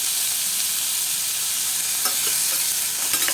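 Finely chopped onions and a couple of curry leaves sauté in oil in a pan with a constant bright sizzle and occasional spatula scrapes near the end, close and even in level, with no voices.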